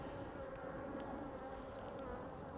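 Honeybees hum in an open hive during an Apivar varroa mite treatment, a dense, steady, close buzzing drone with no pauses and no speech.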